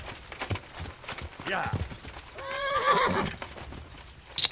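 Horse in the Kingdom Come Deliverance video game whinnying loudly mid-clip, with clip-clop hooves and scattered thumps around it; someone talks over parts of it.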